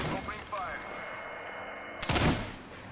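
Gunshots in the Apex Legends video game, a few sharp bursts with one loud, dense volley near the end over background game sound.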